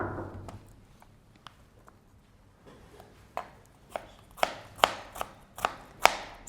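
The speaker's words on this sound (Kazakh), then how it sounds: "Енді сіздерге пиязды қалай турау керек екенін көрсетемін." Knife chopping onion on a cutting board in a kitchen cooking lesson, sparse soft taps at first, then sharper, louder evenly spaced chops building toward the end.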